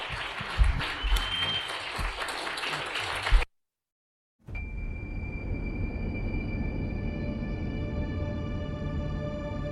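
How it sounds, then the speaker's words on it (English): A live podcast audience claps for the speakers, a dense wash of applause lasting a few seconds before cutting to silence and then a steady hum. "If you would, a round of applause, please."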